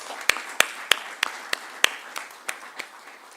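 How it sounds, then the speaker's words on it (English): At a medical conference on cardiodiabetes, audience applause comes through as a sparse series of about ten distinct claps spaced evenly, fairly quiet and distant, with no talking over it. "A big round of applause to all of them."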